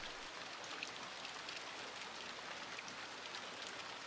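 Soft, steady rain falls on the ground, leaves and rooftops on a quiet night, a faint, even patter of drops with no other sounds.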